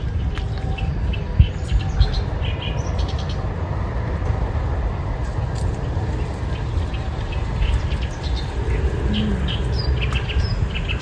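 Birds calling outdoors in green countryside, scattered chirps and tweets over a steady rustle of wind and insects, with faint passing traffic in the distance.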